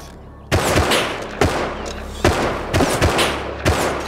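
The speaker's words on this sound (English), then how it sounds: "Shit, the guy's shooting at us." Enemy gunfire in a multiplayer survival game, arriving as five or six separate sharp cracks spaced roughly a second apart, loud and close, each trailing off briefly before the next.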